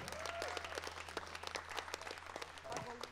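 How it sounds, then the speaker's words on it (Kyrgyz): An audience at a concert gala claps for a performer in a hall, a brief burst of applause mixed with a presenter's voice and a low steady hum underneath. "Султан Садыриевке кол чаап коюңуздар."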